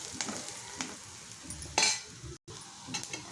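Turmeric being stirred and fried in a pan while making uggani, a soft, close sizzle with light scraping strokes and one brighter scrape near the middle.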